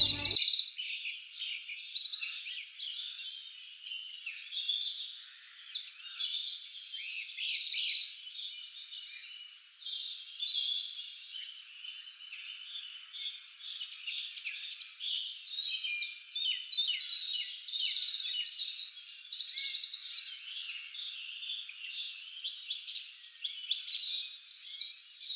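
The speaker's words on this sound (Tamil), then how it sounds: "ரொம்ப பக்கத்தில் இருந்த இந்த பறவைகளாக பார்த்து ரசிச்சுட்டு" Many birds chirp and trill continuously in a forest inhabited by tigers, bright overlapping calls filling the air at close to middle distance with no talking.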